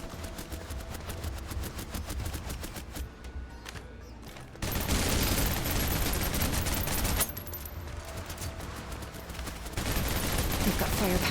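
Sustained, loud automatic gunfire from the shooter game Snowbreak, with dense rapid bursts rolling continuously and shifting in intensity, like several weapons firing at once.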